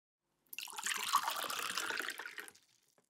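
Water runs from a tap for about two seconds in a steady, splashing stream that starts abruptly and tapers off, close and fairly quiet in an otherwise silent room.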